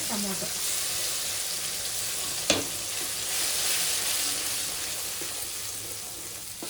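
A steady, close sizzle of ground onion, garlic and tomato paste frying in a hot pan, with a single sharp clink of a utensil partway through.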